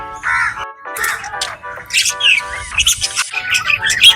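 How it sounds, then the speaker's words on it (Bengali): Many birds, crows among them, chirp, squawk and caw in overlapping bursts by a lake in a park, fairly close and lively throughout. "কিচকিচ করছে প্রচুর পাখি"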